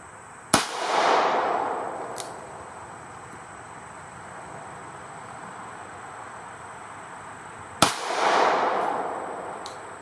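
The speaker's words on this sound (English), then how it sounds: "Next up, two shots of the XTP ammo from Hornady into our bare" Two sharp gunshots of Hornady XTP hollow point ammunition fired into bare clay, spaced about seven seconds apart, each a loud crack followed by a decaying echo outdoors, with a faint click between them.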